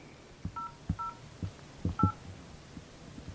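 A phone keypad dials a police hotline number, giving short faint touch-tone beeps in an uneven sequence, mixed with soft button clicks and background noise.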